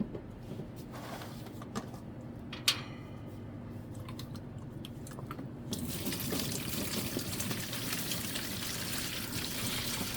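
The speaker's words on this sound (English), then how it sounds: "Now we will add the water." Water poured into a hydroponic lettuce tub after nutrients are added, a few faint clicks and taps first, then a steady rushing pour starting midway and running to the end.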